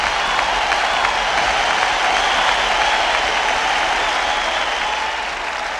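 A dense burst of applause plays as a sound effect during a livestream, loud, even and continuous like a large crowd clapping, fading slightly near the end with no talking.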